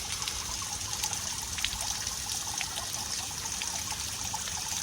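Water trickles steadily and continuously from a tap in Switzerland, a soft even splashing with no voices.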